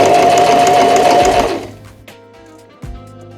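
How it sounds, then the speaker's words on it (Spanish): A Janome 1000A sewing machine stitches a button on with a loud, close, rapid whirring run. It stops after about a second and a half, followed by a few faint mechanical clicks and a brief thump. "Cosemos algunas puntadas y ya tenemos listo el botón"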